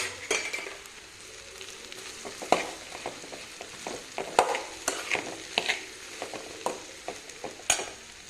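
Okra frying in a pan with chili powder and salt, stirred with soft scraping and intermittent clinks of the spoon against the pan over a faint sizzle, close and moderately quiet, with no voices.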